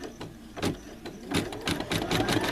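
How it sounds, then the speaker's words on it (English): Sewing machine stitching a tote bag with a steady mechanical chatter and repeated needle thumps, close and continuous, quickening toward the end. "we'll go ahead and start the stitching"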